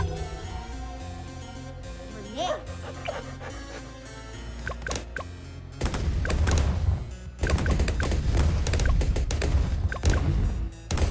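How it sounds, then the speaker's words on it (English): Grenades explode in Bloons TD 6: a dense, loud run of popping and bursting blasts clattering over game music, starting after a quieter stretch of tones. "Grenades."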